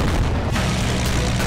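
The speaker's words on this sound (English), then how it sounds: "I'm gonna drop a bomb on that tank there." A heavy bomb blast hits a tank in an Army Men war video game, a loud, dense boom that fills the moment and rumbles on without a break.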